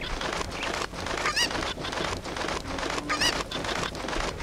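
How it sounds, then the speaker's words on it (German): Cuccos, the chickens of Zelda: Ocarina of Time in Kakariko Village, give two short squawking clucks over a steady game background hiss, fairly clear and without talk. "Oh, die ganzen Hühner sind alle wieder verstreut."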